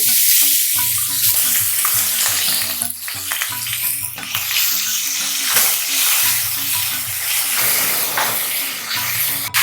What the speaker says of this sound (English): saute the radish